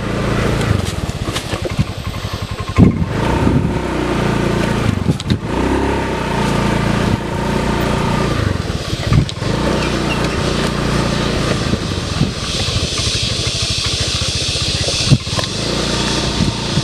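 A dirt motorcycle's engine drones loudly and continuously on a rough forest track, with occasional revs and jolts, heard close throughout.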